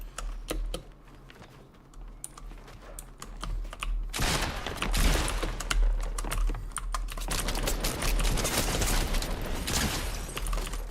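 Rapid gunfire in Fortnite striking a built wall, with quiet scattered clicks at first, then a loud dense burst of crackling shots that stays continuous to the end.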